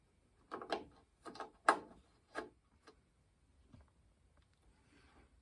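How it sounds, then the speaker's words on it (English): A screw is driven into a cast iron table in a run of quiet, close ratcheting ticks and clicks that thin out into near silence, with no voices. "And we'll put the second screw in place."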